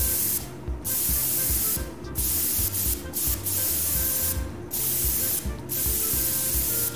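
A spray can hisses in the Prison Simulator video game in five steady, broadband bursts of about a second each, separated by short pauses over a low humming game background, with no talk.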